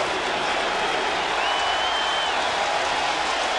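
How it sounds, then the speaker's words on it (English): A large Yankee Stadium baseball crowd roars steadily during a 2009 Red Sox at Yankees game, a dense, loud, unbroken wash of cheering and applause with no distinct voices standing out. "So Yankee Stadium is loud"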